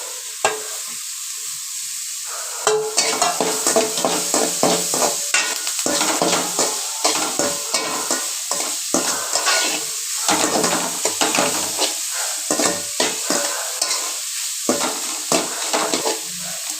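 Grated beetroot stir-fried in a pan with a pinch of asafoetida for dosa batter, giving a steady sizzle broken up by repeated scraping and stirring strokes of a spoon against the pan, close and alone.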